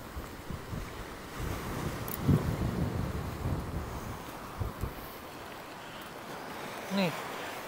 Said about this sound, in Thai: อุ้ยลมแรงไหม